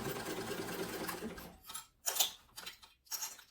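A sewing machine stitches a gusset seam on a sling bag, running in a steady whir before breaking into short bursts and pauses, close and clear.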